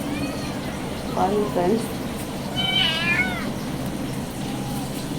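Cats meow in a kitchen while waiting eagerly for fish, with a few short, rising calls near the mic amid clattering household background and someone talking over them.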